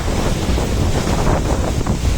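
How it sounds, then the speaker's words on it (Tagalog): Big ocean waves surge and wash at Dinahican on the Pacific coast under a strong southwest monsoon wind, a dense roar buffeting the microphone steadily throughout. "Ang lalaki ng alon dito, oh, sa Dinahican. Gawa ng hanging habagat."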